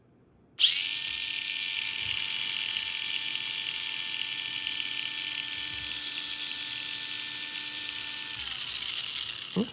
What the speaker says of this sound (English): Torque tuned motors in general, they sound very gentle, in my opinion.